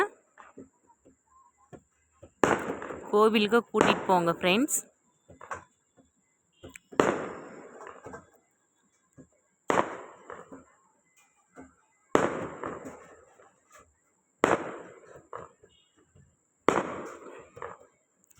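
Festival fireworks and firecrackers at a village festival burst one after another at regular intervals, each sharp bang trailing off, with a person talking briefly between the first blasts.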